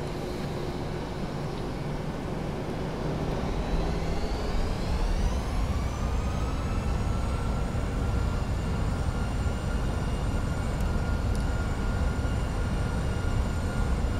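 An airliner takes off in a multiplayer flight simulator game as a steady, loud engine roar that rises in pitch and spools up throughout, alone and without talk.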